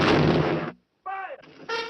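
A volley of rifle fire from a 1952 cavalry western, a loud booming blast that cuts to silence, followed by shouted commands.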